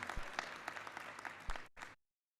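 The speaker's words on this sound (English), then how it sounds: "We must give them a round of applause, comrades" Crowd applause at a community association gathering, a dense burst of hand clapping that runs steadily for under two seconds at moderate level before cutting off abruptly.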